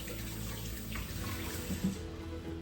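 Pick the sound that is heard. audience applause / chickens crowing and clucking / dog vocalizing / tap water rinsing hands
tap water rinsing hands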